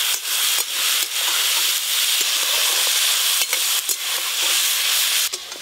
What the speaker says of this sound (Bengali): আলু পেঁয়াজ কলি এবার ভেজে নেওয়ার জন্য কড়াতে সরষের তেল দিয়ে দেবো।